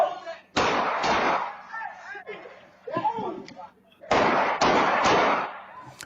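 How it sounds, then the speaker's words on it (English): Gunfire on a city street in Baltimore as two groups on the sidewalk shoot at each other: sharp loud bursts of shots in two clusters, with raised voices and commotion in between. "Then, gunfire."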